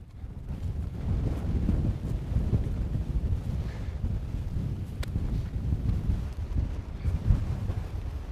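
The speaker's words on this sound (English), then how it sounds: "it's getting a little bit windy" Wind gusting across open snowy winter hills along a ridge, a steady low roar buffeting the microphone throughout with slight swells, no voices.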